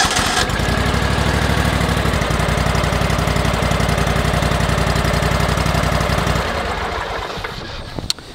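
A Toro Multi Force fitted with a JRCO aerator attachment runs with a loud, steady engine drone and a rapid knocking pulse, fading toward the end before a sharp click.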